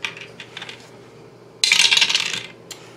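Dice roll during a game of A Touch of Evil: a short, bright rattle of dice tumbling across the table, loud and close, after some quieter clicks of game pieces.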